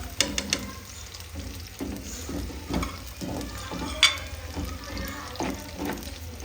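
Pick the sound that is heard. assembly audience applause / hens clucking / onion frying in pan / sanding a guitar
onion frying in pan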